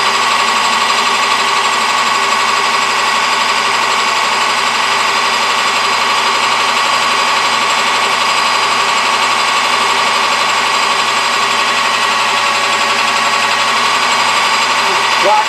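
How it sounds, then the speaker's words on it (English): A Scotch-Brite pad rubs against a hammer head spinning on a lathe, giving a loud, continuous whirring hiss with a steady motor hum throughout, unbroken and close. "A piece of Scotch-Brite and run over that"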